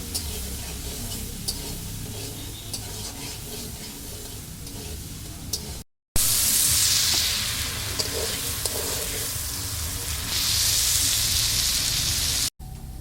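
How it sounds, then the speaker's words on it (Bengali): Potato pieces frying in oil in a home kitchen pan, a loud, dense close sizzle with crackling spatter, broken by two brief silent cuts. "আলুটা লাল লাল করে ভেজে নেব।"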